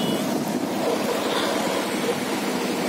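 Floodwater of the Palar river near Ambur, Tamil Nadu, rushes in a steady, broad roar with wind buffeting the microphone, a continuous wash of noise without any talk.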